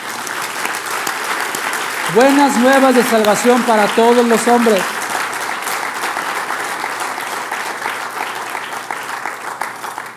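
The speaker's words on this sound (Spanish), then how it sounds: "Dale un aplauso al Señor." A church congregation applauds steadily and loudly throughout, with a preacher's voice speaking over the clapping for a few seconds in the middle.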